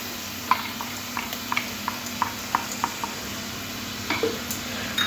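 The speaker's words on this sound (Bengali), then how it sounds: "সর্ষে পোস্তটাও ভালো করে এইভাবে মিশিয়ে নিতে হবে, নাড়াচাড়া করে" Mustard-poppy seed paste stirred into a fish curry of parshe fish, soft sizzling under a series of distinct spoon clicks and scrapes against the pan, close and quiet, no voices.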